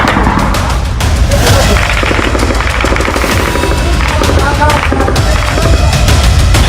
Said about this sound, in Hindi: मेन रोड पर, गली कूचों में, बस्तियों में गोलियां बरस रही हैं।